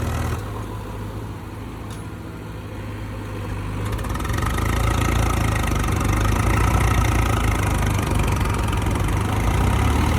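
A tractor engine runs close by with a steady low chugging rumble that grows louder and holds at a constant idle-like pace.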